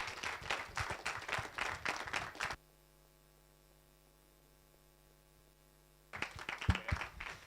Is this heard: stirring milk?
no